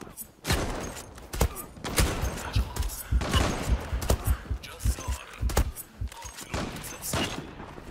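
Rapid bursts of gunfire in the shooter game Zula, sharp cracks arriving in quick irregular volleys close by, with a player's voice talking intermittently among the shots.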